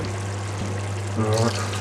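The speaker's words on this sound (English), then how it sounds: "What I want to do is just add a tiny taste of water." Water poured into a pan of simmering Balti-style chicken meatball curry, a short splash over a steady low hum lasting under two seconds.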